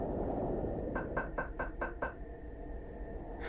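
Six quick, evenly spaced knocks land on the front door of a house, moderately close and clear against a steady background rumble, then stop.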